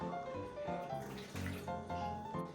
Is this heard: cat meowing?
no